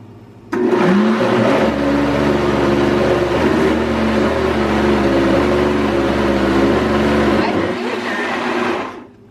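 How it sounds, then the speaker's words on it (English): A kitchen blender running on its smoothie setting gives off a loud, steady motor whine with an odd harmonic drone, starting abruptly and running about seven seconds before winding down. "our blender just made like a weird noise"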